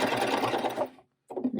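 A coverstitch sewing machine hems fabric with a fast, even whirring stitch that runs for about a second and stops briefly, then starts again, close and steady, with no talking.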